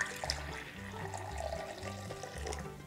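Lukewarm water poured onto yeast and sugar, a soft, close trickle and splash running steadily for a few seconds, fairly quiet.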